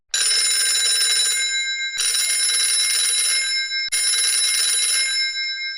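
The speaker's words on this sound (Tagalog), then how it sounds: "Ringing the police department." Three loud bursts of a bright, metallic telephone bell ringing, each about two seconds long with brief gaps between, as a call goes through to a police department.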